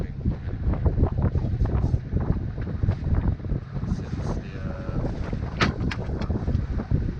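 Strong wind buffets a sailboat with a genoa sail in rough conditions, a loud, continuous roaring rush with gusty swells and brief knocks of rigging, no talking.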